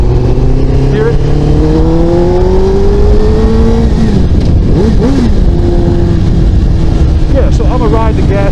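A motorcycle engine runs on the last gas left in its tank, idling loudly and close with a steady rumble while its pitch wavers and rises in short revs, then settles again.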